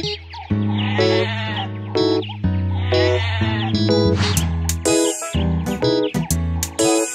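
Sheep bleating woven into the backing of the children's nursery rhyme Baa Baa Black Sheep. Repeated loud bleats sit over steady, bright music with chime-like tinkles, and the cries come in short bursts throughout.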